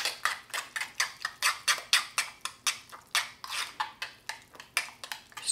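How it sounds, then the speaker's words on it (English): Quick, rhythmic scraping strokes of a utensil blending tuna spread in a bowl repeat steadily, about three per second, close by with no talking. "now we blend it"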